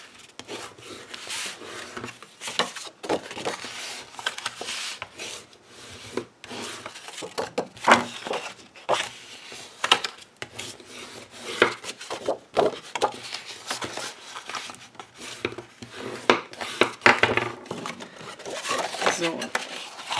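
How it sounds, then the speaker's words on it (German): Irregular scraping and rubbing strokes of a tool tracing fold lines on paper for a bag, close and intermittent with light taps, with a voice speaking at times. "die Falzlinien können wir auch nachziehen"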